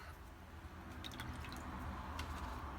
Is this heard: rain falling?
no